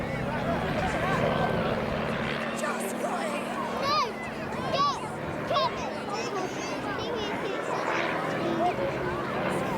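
Display aircraft at the 2024 Longleat flying air show rumble past with a continuous engine drone, heard beneath a commentator's steady talk over the public address.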